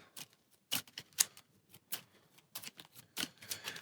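Quick papery riffling and soft snapping bursts, irregular and close, as a deck of Marvel Champions game cards is shuffled by hand with no talking.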